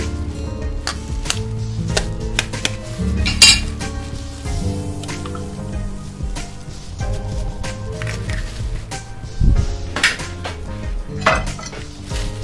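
Flour, egg, salt and chilli batter for chicken lollipops is mixed in a bowl, giving steady scraping and stirring with repeated clinks and knocks of a utensil against the bowl, fairly close and without talk.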